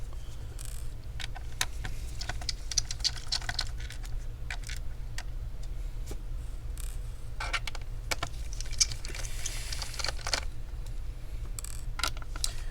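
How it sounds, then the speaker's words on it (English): Phillips screwdriver backing screws out of an Acer Nitro 5 laptop during a teardown, small faint clicks and scratchy ticks in irregular bursts over a low steady hum. "So far I'm still removing the screws."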